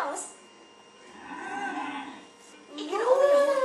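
Cows mooing in a cartoon-style scene, with a low, drawn-out moo early on and a louder, rising bellow near the end, set against quiet background tones.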